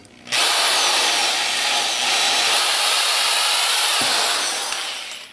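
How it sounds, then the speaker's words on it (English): A reamer run by a power drill through an engine valve guide gives a steady, loud whirring drone that starts abruptly and holds for about five seconds, with no talking. "So I'm just going to run the reamer one more time."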